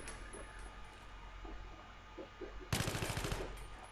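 Automatic gunfire in the video game Battlefield 3, a short loud burst of rapid shots that breaks in abruptly after a few seconds of quieter game ambience.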